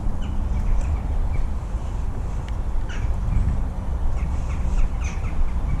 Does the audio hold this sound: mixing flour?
no